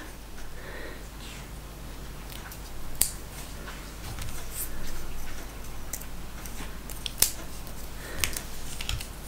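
A paper craft piece is cut with scissors in a few sharp, close snips set against a quiet background of faint handling noise, with no talking.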